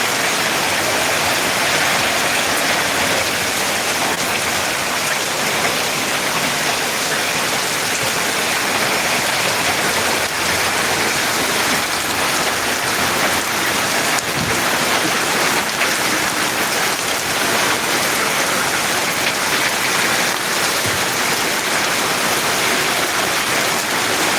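Heavy rain pours steadily in Ariyalur, a dense, unbroken hiss of falling water that stays loud and even throughout with no voices.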